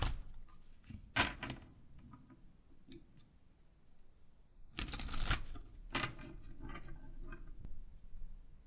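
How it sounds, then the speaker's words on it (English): Kitchen Witch oracle cards are shuffled in two short bursts of quick, soft riffling and clicking, separated by a quiet pause, close and faint. "Let's get you a Kitchen Witch Oracle card."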